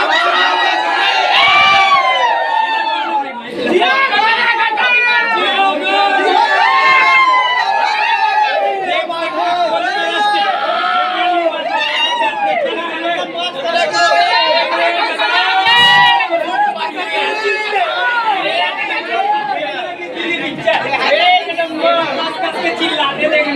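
A packed cinema crowd of fans cheers, whoops and shouts continuously at full volume, children's high voices among the roar, with loud chatter throughout.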